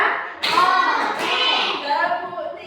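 Children in a classroom clap their hands twice in unison, sharp group claps mixed with young voices chanting along.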